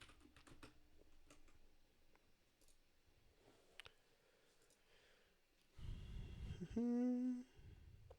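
Keys clatter on a computer keyboard during a Rust coding session, quiet irregular tapping with bursts, followed by a louder whoosh and a brief tonal whine near the end.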